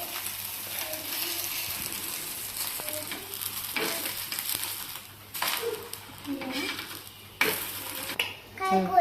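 A little oil sizzles on a hot pan while a masala dosa cooks, a soft steady frying hiss broken by scraping and stirring clatter, with a voice speaking over it.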